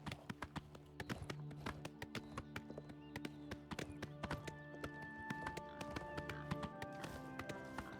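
Horse hooves clip-clop in a steady galloping rhythm in the game Oblivion Remastered, close and fairly loud over layered ambient music.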